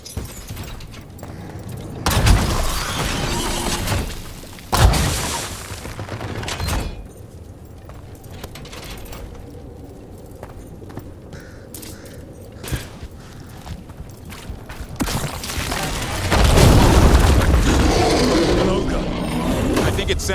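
Ballista shots in Dragon Age: The Veilguard, in the Hossberg Wetlands: a few loud, booming bursts land near the start and again later, standing out from steadier game ambience and intermittent talk.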